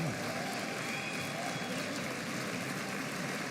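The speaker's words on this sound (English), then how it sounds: "everyone's applauding" A congressional audience applauds, a dense, steady patter of many clapping hands that sounds distant and continuous throughout, with no pauses.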